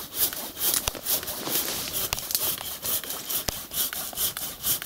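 A hand saw cuts through the trunk of a maple tree outdoors, its steady rasping strokes repeating in a quick rhythm, close and fairly loud, with sharp peaks at a few strokes and no talking.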